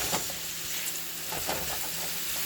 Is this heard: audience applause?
no